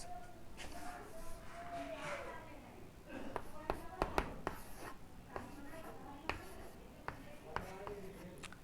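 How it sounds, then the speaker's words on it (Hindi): Chalk or marker scratches and taps against a classroom board during a Class 9 maths lesson, making irregular short strokes and sharp ticks throughout, with a voice in Hindi talking over the writing. "इसका नेक्स्ट पार्ट है 32⁵ थोड़ा नीचे लिखते हैं।"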